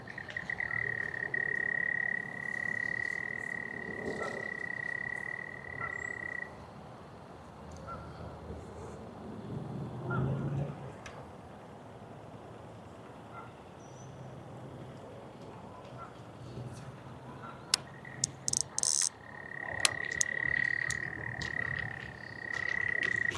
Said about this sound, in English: Got some froggies over there croaking.